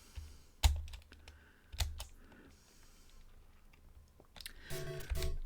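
Computer keyboard keys tapped in short irregular bursts, a few sharp louder clacks separated by quieter gaps, close and alone with no talking.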